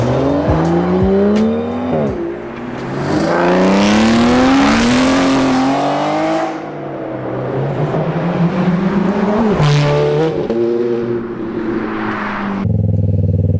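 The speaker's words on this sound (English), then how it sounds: "As you can see, he's test riding an Aston Martin right now." An Aston Martin's engine revs loudly at Cheddar Gorge, rising and falling through repeated climbing pitch sweeps with sharp blips. It is close and dominant for the whole stretch, with a brief tire squeal and no talking.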